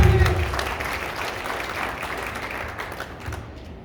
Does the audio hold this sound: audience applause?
yes